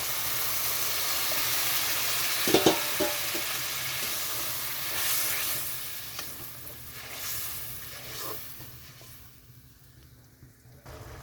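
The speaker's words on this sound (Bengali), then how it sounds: "তো এখানে আমি খুব অল্প পরিমাণে জল দিয়ে দেবো। তো জলটা দিয়ে দিচ্ছি।" Water poured into a hot pan for a Bengali fish curry with pointed gourd, with a loud sizzle and steam hiss that bursts sharply near the start, then settles into steady bubbling that fades toward the end.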